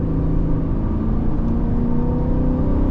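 A manual car's engine revs steadily in second gear as it accelerates, a loud close droning hum that rises slightly in pitch and is heard alone.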